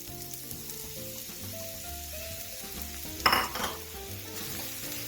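Sliced onion and garlic brown in a pan over a medium flame with a steady close sizzle. A short sharp clink of a utensil on the pan comes midway, and no one talks.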